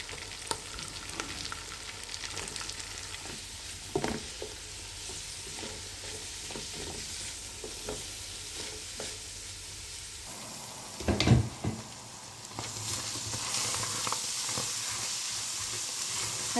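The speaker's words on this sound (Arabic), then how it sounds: "هسه ذبلت عندي اللهانة حمستها حمس كل زين" Shredded small cabbage fries in a pan, with a steady soft sizzle and hiss broken by scraping stirs, a louder clatter of the utensil near the end, and the frying growing stronger afterward.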